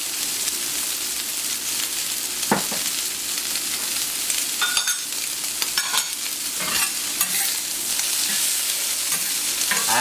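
Shallots frying in a little oil on a plancha, a constant crackling sizzle with occasional scraping strokes of a utensil, close and busy, no talk.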